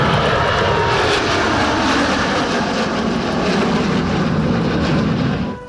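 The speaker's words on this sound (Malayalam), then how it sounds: "വേഗത്തിൽ കുതിച്ച് ഞൊടിയിടയിൽ പറന്നു പോകാൻ കഴിവുള്ള ഒരു യുദ്ധവിമാനമാണ് MiG-21." MiG-21 single-engine fighter jet flying past at an Air Force station ceremony, a loud, steady broadband engine roar that holds constant throughout and then drops away at the end.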